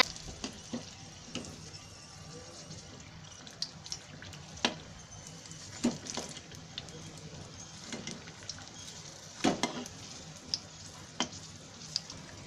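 Stuffed large green chillies roasting in a pan, a soft steady sizzle with scattered crackles and pops, quiet and close, with faint sounds of the chillies being turned.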